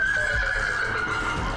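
A horse on a horse farm in Stockton, New Jersey, gives a loud, close, drawn-out whinny that carries through the whole moment alone, with faint hoof thuds beneath it.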